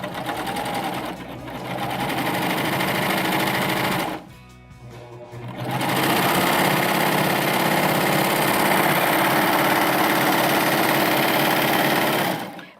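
Baby Lock Euphoria cover stitch machine running a triple cover stitch through layered stretch fabric, a fast, even mechanical whir that pauses briefly around midway, then resumes steadily until stopping.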